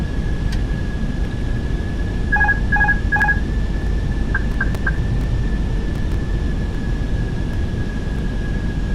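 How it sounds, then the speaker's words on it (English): Autopilot disconnect warning from an airliner in Microsoft Flight Simulator 2020, a steady electronic tone with a few short beeps over a constant loud cabin and engine drone. "I'm going to disconnect autopilot now."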